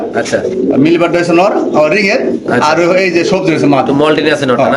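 Pigeons coo in a busy pigeon loft at a farm, several birds overlapping in rolling, throaty calls that run steadily and loudly throughout, mixed with a voice talking nearby.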